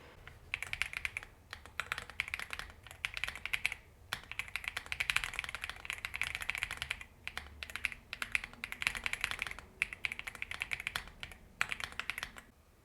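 Rapid typing on a mechanical keyboard fitted with KeyTok keycaps, a steady stream of crisp clacking keystrokes close by with brief pauses, no voices.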